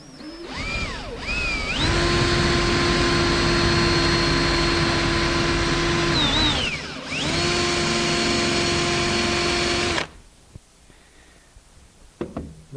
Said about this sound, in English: Take your same Forstner bit and drill it down.